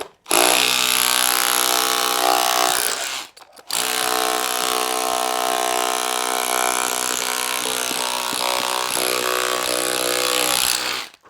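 A small electric jackhammer chips old tiles off a swimming pool floor, a loud, close, steady rattling roar in two long bursts split by a brief pause.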